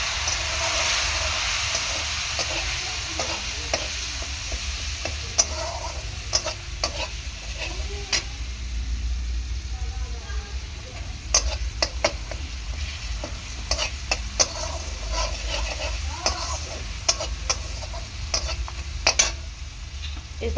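Spice paste of turmeric and chilli powder with a splash of water sizzles steadily in a pan while a utensil scrapes and stirs it, a continuous close hiss punctuated by irregular clicks throughout.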